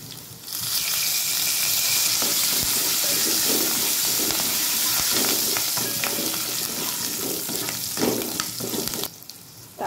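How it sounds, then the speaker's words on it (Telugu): Curry leaves sizzle loudly in hot oil for a tempering, added after garlic cloves have fried, for a sesame, tomato, coriander and dried red chilli chutney; a steady crackling fry runs almost the whole time, easing off near the end. "ఇప్పుడు కరివేపాకు వేసుకున్నాం."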